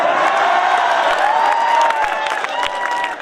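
An audience at a live talk breaks into loud, continuous applause mixed with cheering, whoops and shouted voices, a dense crowd roar that stays full throughout.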